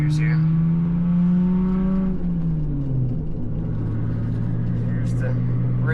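A car driving on pavement near a bridge, engine droning steadily, with the pitch dropping partway through as gears shift and then settling again; loud and close throughout, with no talk.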